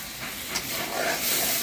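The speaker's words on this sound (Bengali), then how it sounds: "ট্যাংরা মাছটা বুনা করে নিতেছি" Tengra fish cooking bhuna-style in spiced paste on a stove, giving a steady hiss and sizzle that swells slightly toward the end, with no talk.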